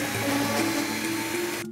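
A kitchen blender runs continuously with a steady whirring motor hum and shifting pitch, close and fairly loud, then cuts off abruptly at the end.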